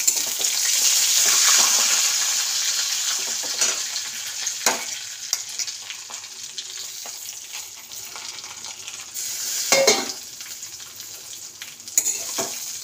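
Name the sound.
frying semai vermicelli in ghee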